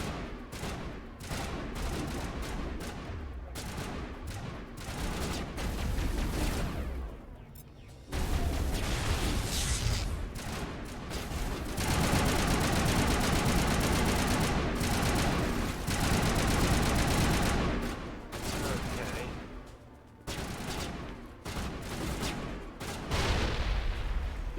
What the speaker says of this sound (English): Gotta love explosions.